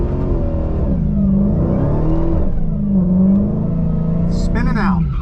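A Dodge Challenger Hellcat Redeye Super Stock launches under launch control with its tires spinning, a loud continuous engine roar that rises and dips in pitch and then climbs again as the revs surge, close and dominant throughout.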